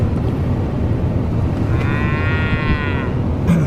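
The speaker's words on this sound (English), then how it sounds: "here comes the lead cow of the straggling bunch" Cattle low from a straggling herd on a farm, a cow and calf mooing in a long drawn-out call heard over steady rumbling background noise, probably a vehicle idling nearby.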